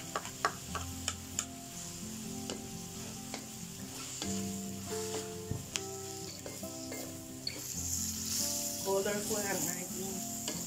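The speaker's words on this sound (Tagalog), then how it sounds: "Stir-fried konjac noodles or shirataki noodles" Shirataki konjac noodles stir-frying with cabbage and spring onion, a steady close sizzle under music with repeated sharp clicks and scrapes of a utensil against the pan, growing louder and busier near the end.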